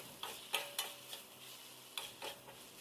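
Spices and mushrooms being sautéed in a pan for mushroom curry, with a low sizzle underneath and a handful of sharp, spaced clicks and scrapes from a spatula against the pan, close and fairly soft.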